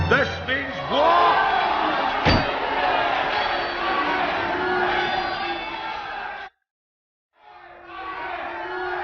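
Rival Highland clans brawl in Disney's Brave: a loud crowd of shouting, bellowing men with clangs and whoops, cutting out abruptly before the din returns.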